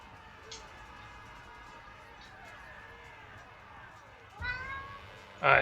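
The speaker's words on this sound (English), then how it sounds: "my cat is mourning for my defeat" A house cat meows near the end, two short cries close to the microphone after a stretch of quiet background murmur and voice.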